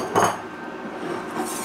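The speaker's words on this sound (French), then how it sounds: "on racle bien ce qui reste sur le fond" Utensil scrapes and a light clink against a bowl while caramel cream dessert is gathered from the bottom, close and brief, over a faint steady background hiss.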